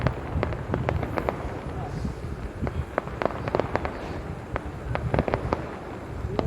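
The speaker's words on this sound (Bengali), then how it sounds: "অনেকক্ষণ ধরে আতশবাজি পোড়ানো হচ্ছে" Fireworks go off at a big festival in a rapid string of sharp cracks and pops, some loud and close, over a dense crackling roar. A voice talks at times.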